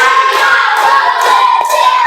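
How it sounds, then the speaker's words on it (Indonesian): Schoolchildren in a classroom clapping hands together in a rapid, dense patter, close and loud, with some thumps and a bright ringing tone over it. "Tepuk tangan untuk kita semuanya"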